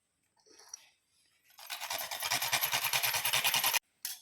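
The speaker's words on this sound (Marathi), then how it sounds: "आणि त्यासोबत जायफळ किसून घालायचं" Whole nutmeg rubbed across a small grater while cardamom-spiced jaggery sweet is prepared at home, a quick run of fast, close, rasping scrapes for about two seconds, then a brief pause and one more scrape.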